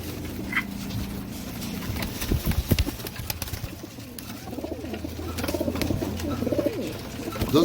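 Dabba wala pigeons coo in low, rippling calls that grow clearer in the second half, nearby, over light rustling and background noise.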